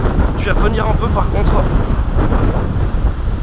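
Strong gusty wind buffets a microphone outdoors on a carp fishing trip, a loud continuous rumble that swells and dips, with someone talking over it.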